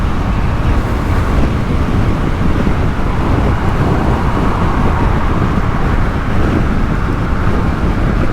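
Steady, loud wind roar buffeting the microphone while riding a Royal Enfield Super Meteor 650 cruiser motorcycle with a screen at speed on an open road, a continuous broadband rush with no pauses.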